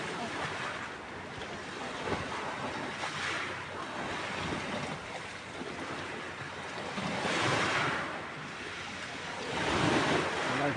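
Sea waves roll and break repeatedly, swelling and fading in a slow rhythm, with a constant windy rush behind them.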